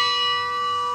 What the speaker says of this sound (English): So what we've got is a modern bell that's harmonically tuned.